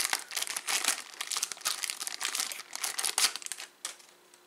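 Plastic baggies holding a Hershel wedge and filter are crumpled and crinkled up close in a busy run of rustling bursts that trail off at the end, with no voices.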